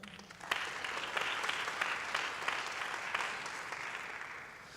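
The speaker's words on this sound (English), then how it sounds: "Give our panelists a round of applause." An indoor audience at a panel event applauds, a dense patter of many hands clapping steadily for several seconds, moderately distant and fairly quiet.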